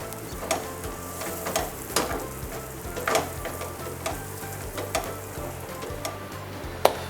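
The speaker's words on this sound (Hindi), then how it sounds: "अब इसमें 3 अदद दरमियाने साइज की प्याज बारीक चॉप हुई हुई शामिल करेंगे। और अब हमें इसे करना है लाइट ब्राउन।" Three medium onions, finely chopped, frying in oil until light brown, a steady close sizzle with regular stirring scrapes and clicks of a spoon against the pan.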